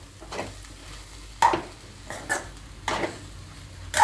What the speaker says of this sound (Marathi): आता ती आपण मिक्स करून घेऊया.